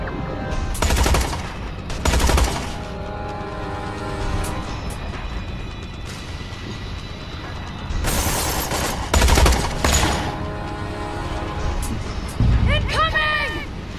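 Bursts of rapid automatic gunfire tear through a Tales from the Borderlands firefight in loud volleys separated by quieter stretches, with people talking between and over the shots.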